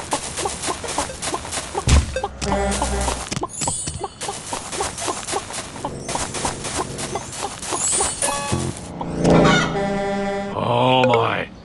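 Chickens cluck and a rooster crows in an animal escape audio game, with repeated sharp clucks and squawks in quick bursts, then longer crowing calls toward the end, close and clear.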